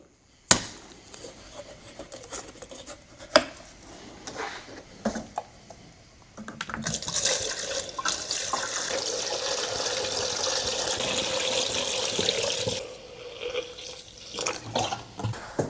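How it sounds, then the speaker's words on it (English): Washer fluid pours from a jug through a plastic-bottle funnel into a car's windshield washer reservoir. A few sharp plastic knocks come first, then a steady gurgling stream runs for several seconds before tapering off. "Now simply take your fluid and pour it in."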